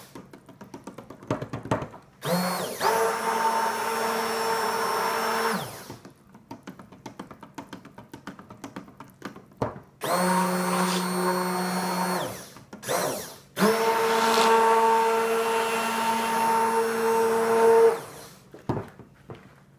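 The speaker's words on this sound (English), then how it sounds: "I don't want the powder to fly when I turn on the blender." A kitchen blender whirs while mixing black walnut hull powder for soap, running in three loud bursts of a few seconds each, separated by quiet pauses with light clicks and handling noises.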